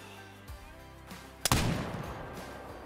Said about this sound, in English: We should be able to take the shot from right here.